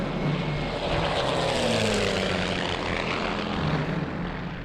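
A Messerschmitt aircraft makes a low pass over an airfield runway during a film shoot. Its propeller engine gives a loud, steady roar that fills the whole stretch, with no voices.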